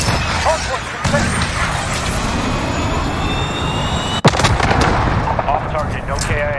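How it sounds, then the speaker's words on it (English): A cruise missile strike in Call of Duty Modern Warfare Hardpoint: dense rumbling battle noise peaks in one sharp, loud blast, with game voices chattering throughout. "Cruise missile, go for launch."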